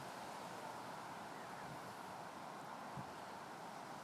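Wind blows across open ground near a footpath while a DJI Phantom 4 drone flies, a faint, steady rushing noise with no breaks.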